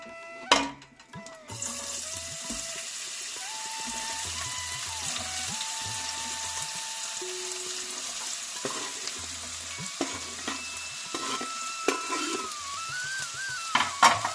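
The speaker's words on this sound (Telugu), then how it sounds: "సేమ్ బౌల్లోనే ఆనియన్స్ వేసి మగ్గపెట్టుకుందామండి" Onions sautéing in the same pan just used to fry eggs, giving a continuous close sizzle and frying crackle with occasional stirring scrapes and clicks throughout, plus a steady tonal hum in the background.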